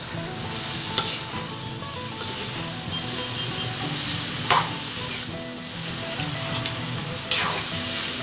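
Pre-boiled tender baby jackfruit sautés in a pan with a soft, continuous sizzle, broken by a few sharp scraping clicks of the stirring spoon.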